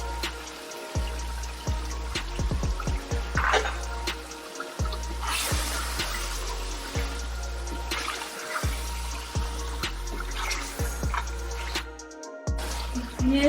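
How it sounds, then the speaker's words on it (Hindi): Water is poured and swished into a yogurt container in a home kitchen, with splashing, gurgling and dripping up close, while rhythmic low thumps run underneath throughout. "ये इस तरह दही का जो बर्तन है उसके अंदर पानी डाल के निकाल लें"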